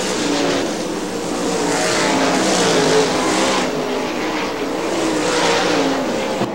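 Loud, sustained engine roar from 410 sprint cars racing at Butler Motor Speedway in Quincy, the pitch wavering as the cars speed around the track and pass close by.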